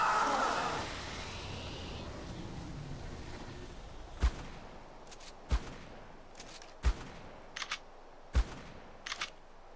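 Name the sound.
gunfire from the video game Ark Survival Evolved Aberration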